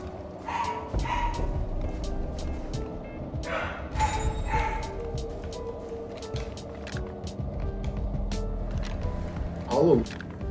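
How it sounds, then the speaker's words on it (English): Dogs bark repeatedly in a Far Cry 3 game scene, with yips and woofs scattered across the mix over steady game ambience and a voice talking. "the dogs are barking quite a bit"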